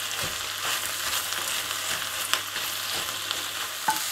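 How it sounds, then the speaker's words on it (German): Black kale and onions cooking in a pot for a stew, a steady soft sizzle with occasional sharper clicks and scrapes as the contents shift, heard up close with no talking. "Und lassen den jetzt schön hier drin mitdünsten, bis er schön zerfällt bzw."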